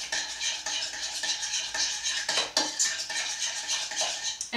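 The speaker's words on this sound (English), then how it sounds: "just give it a good stir to combine." A utensil stirs sliced ingredients in a bowl for herb roasted cauliflower with lemon and red pepper flakes, making a steady, soft scraping and clinking that rises and falls, with a few sharper taps against the bowl.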